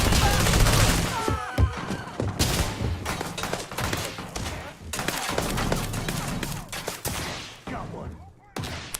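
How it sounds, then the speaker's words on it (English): Gunfire in the space game Starfield, played on very hard difficulty, rolls on as a loud, steady barrage of rapid shots and bursts with occasional heavier thumps and crashes, and a voice can be heard faintly beneath. "Riley's shooting at me"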